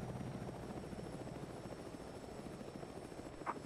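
A helicopter in the military shooter game Squad flies nearby with a steady, continuous rotor thump and engine drone, moderately loud, with no voices.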